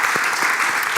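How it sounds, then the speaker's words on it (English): Dense audience applause at a documentary film screening, loud and continuous clapping from a crowd with no voices over it. "Give him a big applause one more time."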